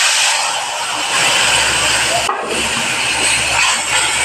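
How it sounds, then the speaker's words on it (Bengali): Ground spice paste of ginger, mustard, radhuni, cumin and coriander powder hits hot oil for a Bengali shukto and sizzles with a loud, close, steady hiss while a voice speaks over it. "তেল গরম হয়ে গেছে, ওই তেলের মধ্যে মশলা বাটা দিয়ে দেবো।"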